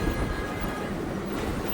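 A train rolls by at close range with a steady, dense rumble and rattle of rail cars, sustained loud throughout with no pause, on a track near an old sea bridge.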